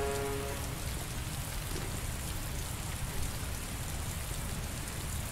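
Steady, dense rain falls in the Heavy Rain video game, a continuous close hiss of drops on hard surfaces with no breaks throughout.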